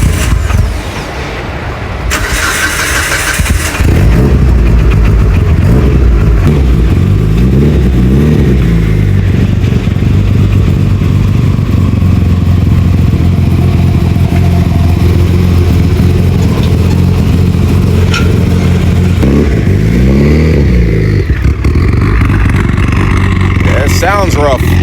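A Mitsubishi Evo 8 with a 58 mm turbo starts cold and runs rough, its engine rumbling loudly with uneven surges and revs throughout, while people talk nearby.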